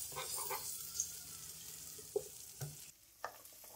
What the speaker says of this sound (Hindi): प्याज को हम हल्का सा फ्राई करेंगे,